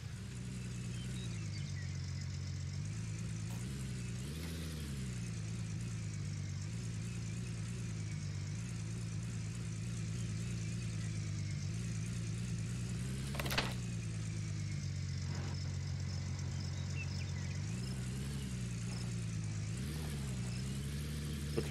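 A truck engine in the video game Gold Rush: The Game runs steadily at a medium pitch, rising and falling slightly as it drives, with one brief clank partway through and no talk.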